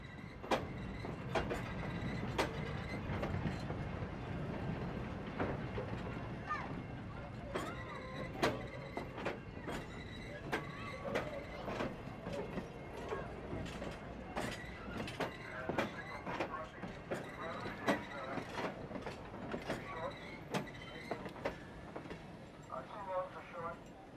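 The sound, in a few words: train passing a maintenance of way yard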